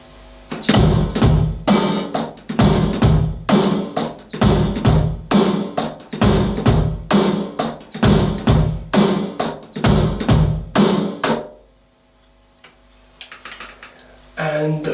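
A drum kit beat in four, snare struck on beats one and three, played steadily at a moderate tempo for about eleven seconds with crisp repeated hits, then stopping into near quiet.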